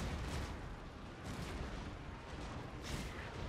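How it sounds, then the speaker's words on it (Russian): Heavy arquebusiers firing on infantry in a Total War battle, a rumbling wash of distant gunfire with a few stronger booms, faint and continuous. "Тяжелые аркебузиры херачат по пехоте."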